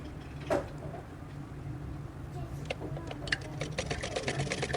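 A sewing machine stitches piping onto a kameez shirt, a quiet close mechanical whir with light ticking stitch clicks that grow quicker and more regular toward the end.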